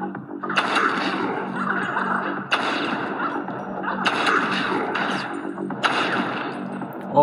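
Gunshots in the mobile game Hitmasters: a steady bed of loud rattling fire broken by four sharp, evenly spaced shot bursts, close and punchy, with a voice briefly audible underneath.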